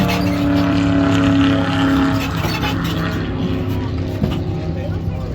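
NASCAR racing-experience stock car rolling past on the Daytona International Speedway track, a steady engine drone with a sustained tonal hum, heard at moderate distance while someone talks over it throughout.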